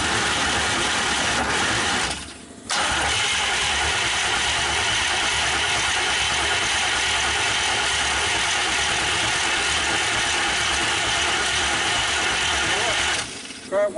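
A 1931 Ford five-window with a freshly swapped engine and one exhaust pipe left uncapped, loud and close: a steady mechanical engine roar runs almost throughout, broken by one brief drop near the start and a short cut-off at the end.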